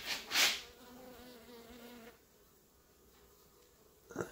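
Honey bees buzzing quietly inside an opened hive during an indoor winter inspection, a faint low hum for about two seconds, bracketed by louder brief rustling and handling noises.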